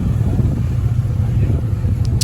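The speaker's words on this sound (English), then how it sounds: "oh, there goes the MR2 too" A Toyota MR2 pulls away at a cars and coffee meet, its engine a steady low rumble heard close and fairly loud throughout, with no talking over it.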